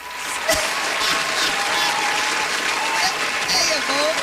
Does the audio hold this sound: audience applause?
yes